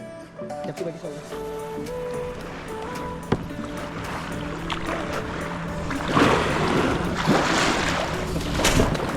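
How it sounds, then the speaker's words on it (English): Kayak paddling out on open water, with wind buffeting the microphone and steady water wash; splashy strokes grow louder and brighter in the second half, while a voice speaks faintly underneath. "enjoy my kayaking, I guess"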